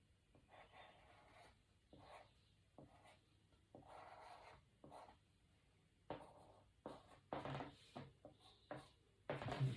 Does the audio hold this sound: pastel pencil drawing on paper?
yes